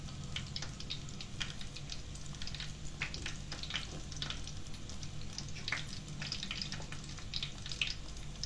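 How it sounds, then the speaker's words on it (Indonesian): Palembang-style fish meatball satay (sate pentol ikan) frying in hot oil, a soft, steady sizzle dotted with small crackles and pops, fairly quiet and with no talk. "sate pentul ikannya yang siap kita goreng ya"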